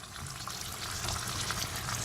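Tofu shallow-frying in a little oil in a pan on a gas hob, a steady soft hiss and crackle that runs the whole time at low volume, with no voices over it.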